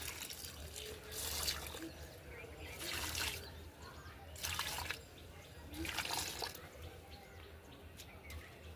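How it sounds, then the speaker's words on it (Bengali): Water mixed with waste decomposer solution is poured around the base of a dragon fruit plant on a farm, giving soft splashing and trickling in several bursts over steady outdoor background noise. "1 লিটার ওয়েস্ট ডিকম্পোজারের সঙ্গে 3 লিটার জল মিশ্রণ করে এই দেওয়া হচ্ছে।"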